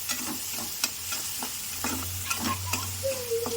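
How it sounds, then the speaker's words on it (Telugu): Onions and chicken sizzle in a pan while being stirred, with a steady frying hiss broken by spatula scrapes and clicks against the pan, close up, no talking. "దోరగా కొంచెం వేగనిద్దాం పిల్లలు"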